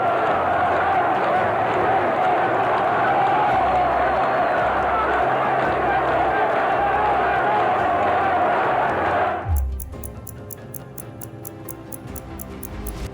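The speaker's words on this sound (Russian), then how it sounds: "Пытаются дирижировать митингом, хлопая в ладоши." A large crowd roars at a mass political rally in Bucharest, a thick sustained wash of voices and clapping that suddenly cuts off, leaving quieter scattered noise with rhythmic ticking after.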